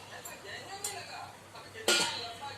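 A lid goes onto a cooking pot of amla murabba simmering in sugar syrup, giving a light metallic clink, then a louder clattering settle of metal on metal, against quiet kitchen background.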